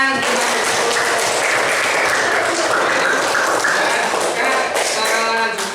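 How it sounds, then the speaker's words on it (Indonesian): A classroom of students applauds together, a dense, steady clapping that fills the room loudly and evenly from start to finish, with no voices standing out above it. "Oke, tepuk tangan."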